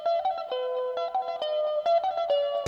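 An electric guitar played through an effect pedal and processed with a CLA guitar plugin plays a clean, sustained melodic line of single notes with clear attacks, up close and without talk.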